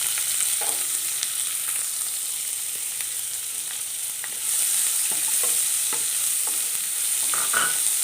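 Chopped onion hits hot oil already crackling with urad dal, curry leaves and chilli, giving a steady loud sizzle that jumps louder midway, with occasional spoon scrapes and stirs; no voices.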